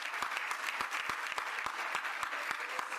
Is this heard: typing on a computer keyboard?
no